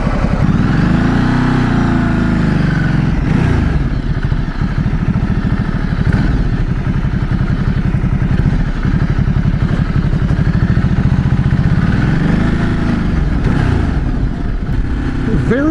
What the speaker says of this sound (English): Ducati Strada 1200S. Let's go for a ride.